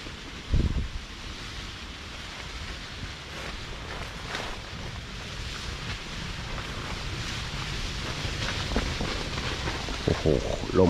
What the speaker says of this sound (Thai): ลมฮะลม